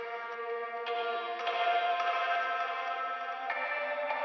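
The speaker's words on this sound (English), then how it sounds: "So we've got this little Wurlitzer and it sounds like this in solo" A Wurlitzer electric piano preset from Analog Lab plays solo with light processing, a soft, steady wash of sustained chords with gentle note attacks poking through, quiet and continuous with no voices.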